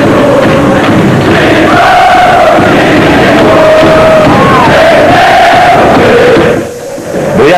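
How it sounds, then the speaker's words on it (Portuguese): A huge crowd of Cruzeiro football fans roars and cheers wildly in an airport arrival hall as the 1992 Supercopa-winning team appears, a dense, sustained wall of shouting and whooping that dips briefly near the end, with a voice speaking over it. "Assim que os jogadores apareceram na sala de desembarque, a torcida foi à loucura."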